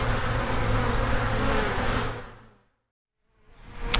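Honey bees buzz around the hive in a dense, close, continuous drone that fades out into near silence for under a second before the buzzing swells back in.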